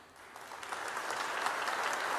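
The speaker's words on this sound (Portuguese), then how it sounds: "Vamos aplaudir as nossas queridas irmãs," Church congregation applauding in a sustained wash of clapping that swells slightly and holds steady, with no voices on top.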